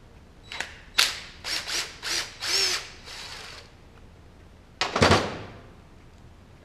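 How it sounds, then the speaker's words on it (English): A small impact wrench on a bolt of a 30mm motorcycle fork, several short close hammering bursts in quick succession, a pause, then one more longer burst. "And I like to use an impact on that."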